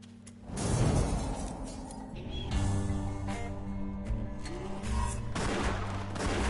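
Pistol and rifle gunfire in the video game West of the Dead, with repeated shots and bursts rolling over a steady game backdrop throughout, fairly loud and close.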